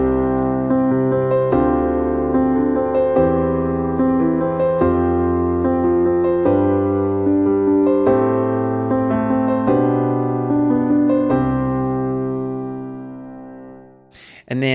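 Solo piano plays a steady worship-style chord progression, sustained chords re-struck in a regular rhythmic pattern with changes landing on strong beats, ringing clearly for about twelve seconds before fading out.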